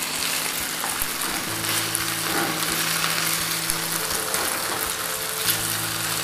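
Fish fillets fry in butter in a pan, giving a loud, continuous, close crackling sizzle with a faint steady hum beneath and no talking.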